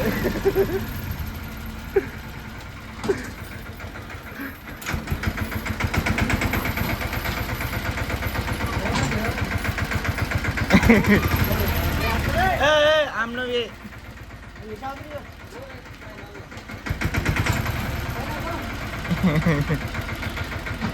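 Steady idling of a tractor engine, a continuous mid-low chug that dips briefly and returns, with people talking over it in places.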